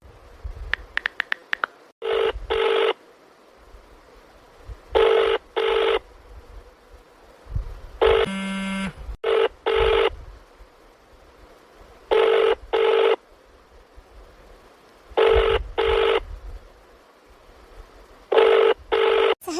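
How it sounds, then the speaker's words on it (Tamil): Phone call ringing out unanswered, a repeated double ring tone in evenly spaced pairs, clear and close, with a few dialing beeps at the start and no one picking up. "ஃபுல்லாக ரிங் போகுது, எடுக்கவே மாட்டேங்கிறாரு"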